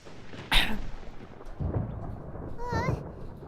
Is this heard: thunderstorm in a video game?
yes